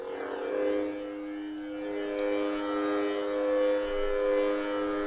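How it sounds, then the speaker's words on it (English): A steady electronic hum with layered tones swells and wavers, the Grievous sound font on a NovaSaber lightsaber droning continuously at idle with slight pulsing, fairly close and moderately loud. "I'm going to run through some of the different sound fonts you'll find on this saber"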